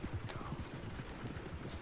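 Horse hooves clip-clop steadily underfoot in Red Dead Redemption 2, a soft, even gait with a faint rumble of ambient noise and no talk over it.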